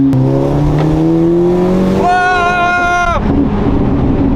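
A car engine revs up close, climbing steadily and then spiking into a sharp high-pitched wail for about a second before dropping back to a rough idle, loud and continuous.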